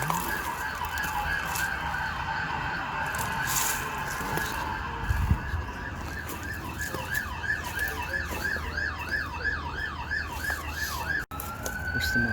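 A toy fire engine's wailing siren plays from a small speaker, its warbling tone repeating steadily and growing into a fast yelp, over a noisy background with a few knocks.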